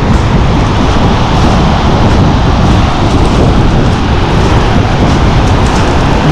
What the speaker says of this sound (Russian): Песочек поднялся, но это волны обалденные.